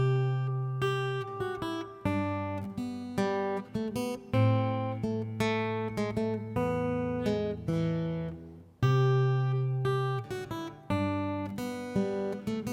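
Close fingerstyle guitar plays the B section of Greensleeves, bass notes and melody picked together in a flowing, even rhythm with ringing notes and no voices.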